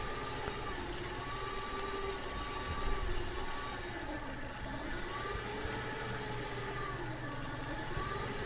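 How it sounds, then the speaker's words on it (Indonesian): A Suzuki Baleno engine with an irregular idle and a suspected faulty ISC coil hums steadily and faintly with a low rumble, its pitch drifting gently up and down as the RPM rises and falls, with no talk. "kalau digerakkan mesin bisa naik bisa turun ya RPM nya"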